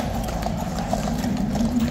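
A King's Guard horse's hooves clip-clop on pavement, steady and fairly close, under a constant hum of traffic and street noise with no speech.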